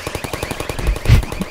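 Rapid automatic gunfire in Half-Life 2: Episode 2, a fast, even burst of close shots followed by a louder, heavier blast near the end.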